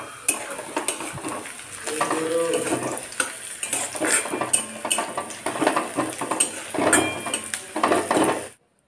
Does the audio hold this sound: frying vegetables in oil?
yes